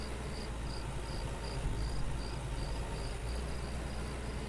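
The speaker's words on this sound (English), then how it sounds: "now I can hear the crickets in the background" Evening crickets in the farming game Farmer's Dynasty chirp in a steady, regularly pulsed rhythm, moderately loud over a constant low ambient hum with no talking.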